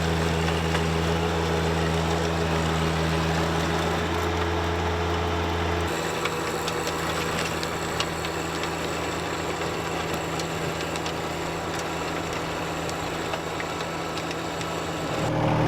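A steady, loud engine drone runs throughout, a subcompact tractor tilling garden ground continuously with a rough mechanical rumble and no talking.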